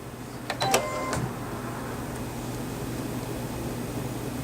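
A Brother BP3500D sewing and embroidery machine ties off its stitch and trims the thread automatically, giving a short cluster of mechanical clicks and a brief whir over a steady background hum, then settling to a quiet drone.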